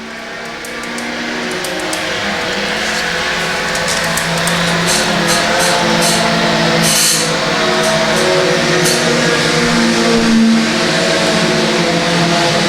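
Race cars circle an oval track at LA Raceway on a Friday night, engines droning and revving steadily and growing louder as they approach. Mid-pitched motor tones layer together with brief sharper bursts.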